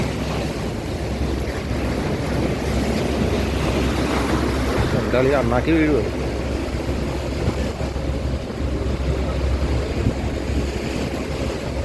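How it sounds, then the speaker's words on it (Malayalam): Water churns and splashes against a moving boat under steady wind and engine rumble. The wash is loud and continuous, and a person talks briefly partway through. "ഗൈസ് കുറച്ച് ബോട്ട് അങ്ങോട്ട് പോയി കഴിഞ്ഞപ്പോഴേക്ക് വെള്ളമൊക്കെ കിടന്ന് ഇങ്ങനെ തേര പോലെ അടിക്കുന്നത്"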